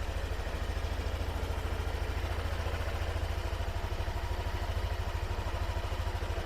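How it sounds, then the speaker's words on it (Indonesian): Yamaha Aerox scooter engine idling smoothly with a steady, even low putter, close up and continuous with no talk over it. "mesin ini aman lah ya, suaranya halus"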